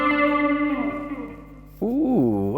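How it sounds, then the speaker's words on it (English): An electric guitar through an original Line 6 Pod with delay and flanger, one held chord decaying with echoing repeats, then a new strum whose tone sweeps and swirls, fairly loud with no voices. "Delay and flanger"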